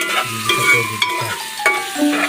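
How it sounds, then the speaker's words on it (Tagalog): Onion and garlic sautéing in a pan, a steady sizzle with repeated scraping stir strokes and utensil clinks at close range, no talking. "Gigisa po yung sibuyas, bawang."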